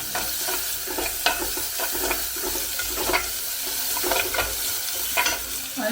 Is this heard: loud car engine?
no